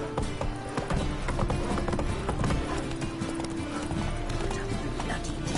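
The horse Roach galloping in The Witcher 3, a fast, steady clip-clop of hooves running continuously and close, with a brief voice over the hoofbeats.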